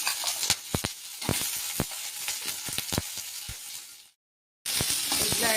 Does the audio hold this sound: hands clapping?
no